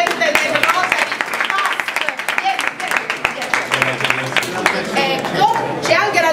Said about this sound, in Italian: un applauso al presidente del Rotary